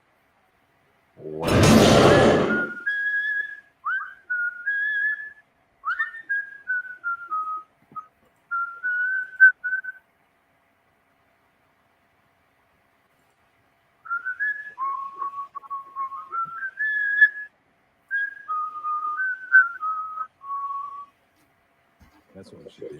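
Someone whistles a slow, wandering melody in two separate phrases with pauses between, clear against near silence, after a brief loud burst of noise at the start; a voice briefly speaks.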